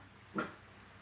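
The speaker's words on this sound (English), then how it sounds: "don't start barking" A single short dog whine or yelp, brief and fairly close, standing out against a quiet background.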